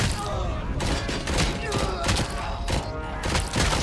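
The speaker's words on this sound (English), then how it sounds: "the SMG is pretty effective from a distance" Rapid SMG gunfire in the RoboCop video game, dense bursts of close shots with heavy thuds running continuously and loudly throughout.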